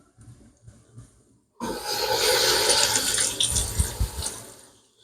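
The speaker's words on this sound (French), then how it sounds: "tu peux te rincer les mains" Running tap water suddenly switches on after a few quiet seconds of soft kitchen sounds, a steady hiss of water as hands are rinsed under the faucet, with some brief splashing and rubbing near the end.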